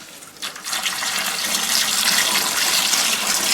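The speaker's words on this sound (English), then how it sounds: "now you add the water, pouring in from a high height to help mix everything in." Water pours from a height into a turkey brine, starting with a splash and then settling into a steady, loud rushing fill.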